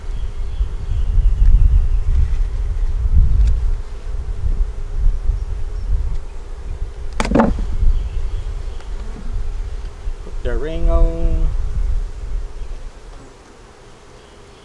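A steady, droning buzz of many honeybees around an open hive fills the scene, with a brief sharp tone midway and a short voice near the end.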